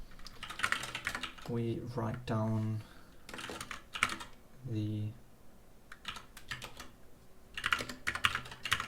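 Rapid computer keyboard typing in bursts, close and crisp, broken up by someone talking between stretches of keystrokes.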